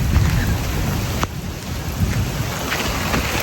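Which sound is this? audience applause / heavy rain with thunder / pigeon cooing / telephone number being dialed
heavy rain with thunder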